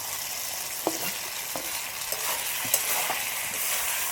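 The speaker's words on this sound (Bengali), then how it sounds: "এবার আমি ভেজে রাখা এঁচোড় আর আলু দিয়ে দেবো।" Jackfruit and potato being stirred into oily, well-cooked masala in a pan for a jackfruit and prawn curry, with steady sizzling and several distinct scrapes of a spatula at irregular intervals, close and continuous.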